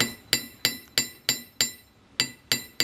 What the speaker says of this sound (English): Hammer it in different directions.